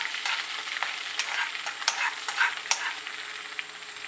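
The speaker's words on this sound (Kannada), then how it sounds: "ಹಸಿಮೆಣಸು, ಹಾಕೊಂಡು ಸ್ವಲ್ಪ ಹೊತ್ತು ಹೀಗೆ ಫ್ರೈ ಮಾಡ್ಕೊಳ್ಳೋಣ." Green chillies fry in a pan for prawn sukka, a steady crackling sizzle punctuated by the scrape and clink of stirring, close and alone without any talk.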